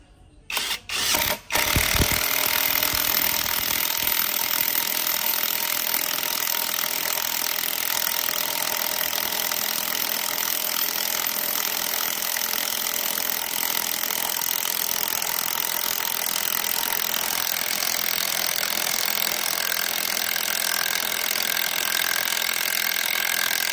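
A Himoki 650 Nm impact wrench drives a long screw into longan wood: a few short bursts open, then a loud, continuous rattling hammer and motor whine runs on steadily for about twenty seconds, with no talk.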